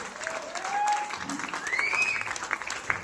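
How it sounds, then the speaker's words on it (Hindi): An audience claps loudly and continuously at a celebratory gathering, with whistle-like tones and voices mixed into the applause. "जोरदार ताली एक बार"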